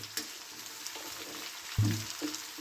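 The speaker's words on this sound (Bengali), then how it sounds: "কপির শাকটা একটু কষে নেবো এর সাথে।" Young cauliflower greens with stalks, mixed with spinach and vegetables for a Bengali chorchori, sauté in a pan under a low frying hiss, with one sharp clatter of a utensil and occasional light stirring knocks.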